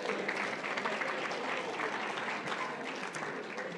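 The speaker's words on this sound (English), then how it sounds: "Yeah, let's all clap." An audience claps steadily at a talk on kindness and happiness, a dense and even wash of many hands that holds for several seconds with no voices standing out.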